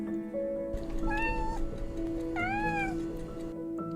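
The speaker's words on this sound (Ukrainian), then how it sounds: "Це кошеня." A kitten meows twice, rising drawn-out cries over a steady humming background, with a short third call at the end.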